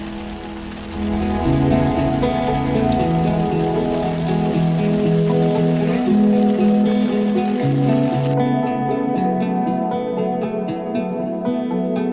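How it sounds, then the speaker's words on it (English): Steady rain patters on a tent nonstop, a dense, close hiss of drops with a low hum running underneath. "we spent the evening in the tent, listening to the raindrops."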